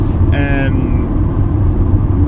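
A Volkswagen Golf Mk2 1.6 cruises on a motorway with a loud, steady low engine and road drone filling the cabin, and a brief tonal chime or whine rising over it early on.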